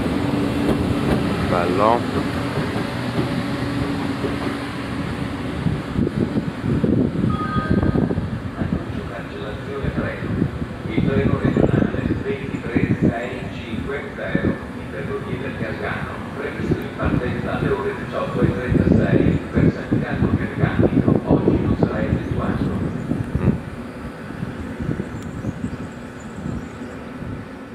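ETR 104 regional train departing from a station in Foggia, heard as a continuous low rumble and rising mechanical drone with rattling and clatter throughout, fairly loud and steady, with voices and a station announcement faintly mixed in.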